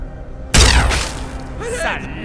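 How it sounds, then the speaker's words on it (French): The super plasma cannon in Fallout 3 fires one sudden, loud blast that rings out and crackles before fading into lingering noise. "je vais le tuer avec le super canon plasma"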